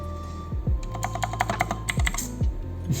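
Keys clacking in quick irregular bursts on a Vortex Series VX7 Pro tenkeyless mechanical keyboard, close and crisp, with no voices over the steady typing.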